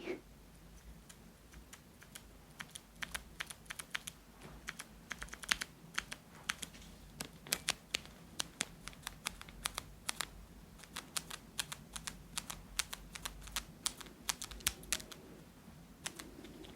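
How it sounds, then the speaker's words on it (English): Keys on a mechanical keyboard fitted with clicky switches are typed in an uneven, continuous stream of sharp, close clicks and clacks over a quiet background hiss. "I put a couple of clicky switches on my keyboard as like accent keys because they're fun to press"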